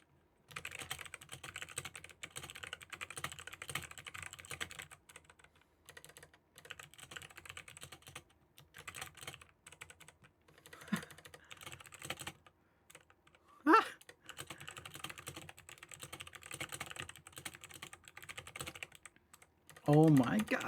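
Steady rapid clacking of typing on a custom-built mechanical keyboard, continuous keystrokes with brief pauses, close and clear, with a short burst of another sound near the end.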